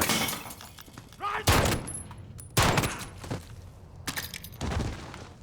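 Pistol shots from a 1911 in Call of Duty Modern Warfare, three loud sharp cracks spaced about a second apart, each with a short ringing tail over quiet game ambience.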